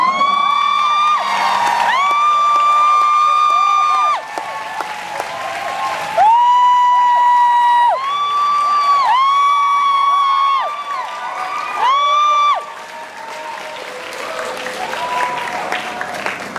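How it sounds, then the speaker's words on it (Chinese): A concert audience in Taipei's Nangang applauds and cheers for a young singer-songwriter from Pingtung's Lutai, loud sustained clapping with long high whoops and shouts rising over it in waves. "请不要吝啬人的掌声。"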